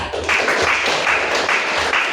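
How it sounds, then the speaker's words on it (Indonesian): A classroom of students claps for a presenting student group, a loud, close, continuous patter of many hands with slight rhythmic surges. "tepuk tangan untuk kelompok 3"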